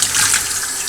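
Tap water running in a sink while an Eheim 2213 canister aquarium filter is cleaned, a loud, steady hiss of flowing water for the whole second.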